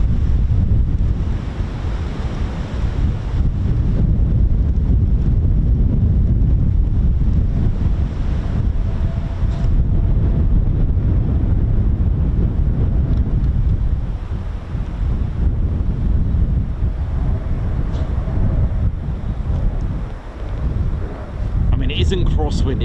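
Strong crosswind buffeting the microphone at an RAF air display with F-35B jets, a loud continuous low roar and rumble lasting throughout, with faint hiss and gusts rising and easing near the end.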